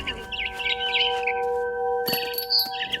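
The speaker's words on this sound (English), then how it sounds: "I heard chirping outside my window. It was a barn swallow going back to her nest." Quick high chirps and twittering from a barn swallow in the video game What Remains of Edith Finch, close by, over a soft tonal hum, with a brief bright ringing burst near the end.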